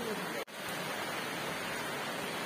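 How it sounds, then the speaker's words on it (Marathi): Rain falls steadily in a coastal village near Vijaydurg, a constant close hiss that is briefly cut off by a sharp gap near the start, then resumes evenly. "पाऊस बघा कसा आहे, पडतो छानपैकी"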